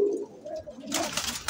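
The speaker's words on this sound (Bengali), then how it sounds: "এই যে দাপড়িতে আরও কিছু কবুতর আছে" Pigeons on a rooftop loft give a low, soft coo followed by a burst of fluttering or shuffling noise, close and brief.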